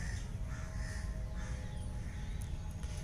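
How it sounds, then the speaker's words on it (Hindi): Several crows cawing outdoors in Uttarakhand, repeated harsh calls at moderate distance over a low rumbling background, with a few sharper bird chirps near the end and no talking. "कौवे इकट्ठे हो जाते हैं, कोयल इकट्ठी हो जाती है, और पशु पक्षी सब इकट्ठे हो जाते हैं"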